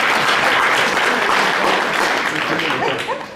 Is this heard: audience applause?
yes